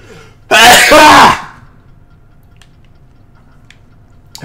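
A person sneezes once loudly and close up during a gameplay session, a sharp burst followed by quiet room tone and faint small clicks.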